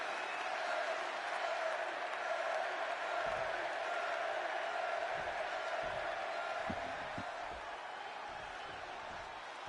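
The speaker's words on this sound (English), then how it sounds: "And just listen to this crowd here in Chicago." A video-game wrestling crowd in a Chicago arena, WWE 2K26, roars as a steady, distant wash of cheering and applause, with a few faint low thumps underneath.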